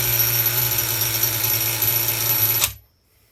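The small nitro engine of an HPI RS4 F150 pickup RC truck, run on 16% fuel, buzzes loudly and steadily up close with no talk, then abruptly shuts off into silence.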